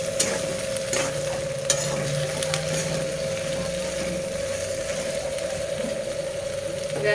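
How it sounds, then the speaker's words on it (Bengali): Onion and capsicum fry over a full gas flame, a steady close sizzle with stirring scrapes and a constant burner hum underneath. "গ্যাসটা ফুল স্টিমে দিয়ে ভেজে নিচ্ছি"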